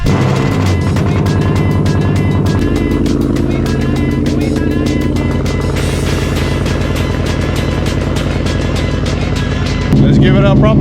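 A Ford Mustang under repair is driven on a test drive, with a loud, steady engine drone and harmonic exhaust tone that holds throughout and shifts near the end, with no speech.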